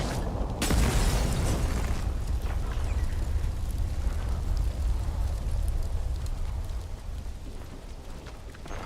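Explosion in the video game Atomfall as a place is detonated: a sudden loud blast followed by a long, dense rumbling roar that fades slowly, heard alone without talk.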